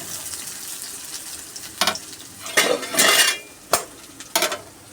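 Crushed garlic and onion frying in hot oil in a kadai with black cumin, a low sizzle punctuated by several bursts of stirring and metal spatula scrapes against the pan.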